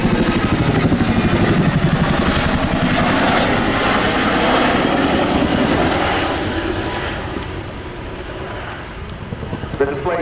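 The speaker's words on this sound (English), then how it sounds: "The display today demonstrates how surprisingly manoeuvrable this large helicopter is." A Royal Air Force Boeing Chinook HC6 twin-rotor helicopter performs a flying display at RIAT 2022, its loud, rhythmic rotor chop and engine roar filling the air and then gradually fading as it moves away, with an announcer speaking over it.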